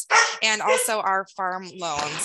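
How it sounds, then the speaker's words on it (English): Dogs bark and yip repeatedly in the background of a home, partly mixed with a person speaking steadily over them. "I apologize for any dogs you may hear in the background"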